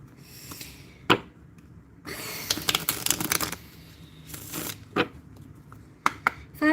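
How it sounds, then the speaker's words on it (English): Tarot cards being shuffled by hand in several bursts of riffling and sliding, with quieter pauses between them and a few sharper card snaps, close and clear with no talking. "I'm gonna shuffle one more time."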